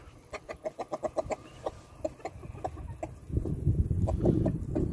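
Laying hens and a rooster cluck in a farmyard, a quick run of clipped calls giving way to a denser, noisier patch of flock chatter near the end.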